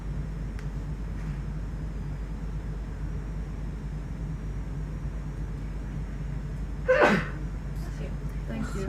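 A person lets out a single sharp sneeze, sudden and fairly close, rising briefly above a steady low background hum.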